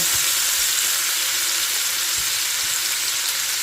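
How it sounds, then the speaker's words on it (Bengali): Fried potatoes and eggplant sizzle loudly in a hot pan of oil and spices, a constant close crackling hiss with faint scraping as they are stirred. "ভাজা আলু দিয়ে দিলাম বেগুনটাও দিয়ে দিলাম দিয়ে একটু নাড়াচাড়া করব"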